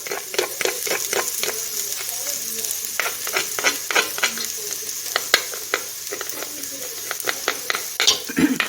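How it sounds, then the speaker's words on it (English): Onion and garlic sauté in avocado oil in a pan, with a steady sizzle and frequent scraping, clicking stirs of a utensil against cookware throughout, close and fairly loud. "saute some onion and garlic"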